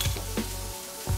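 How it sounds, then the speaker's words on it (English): A tablespoon of butter hitting a hot pan with red snapper, a brief loud sizzle with a low rumble and a couple of soft knocks. "we're gonna add a tablespoon of butter."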